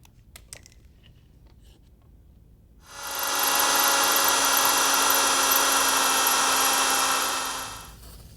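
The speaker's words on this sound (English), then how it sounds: "they're going to have to be drilled out and retapped" A power drill enlarges the caliper mounting holes on a 1967 Chevy C10 suspension. After a few faint clicks, a loud, steady high whine holds for about five seconds before stopping.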